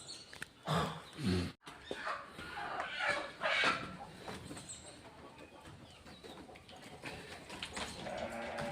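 Sheep, among them pregnant ewes, bleat at close range on a farm in a few scattered calls, with other livestock noise and some handling sounds in the background.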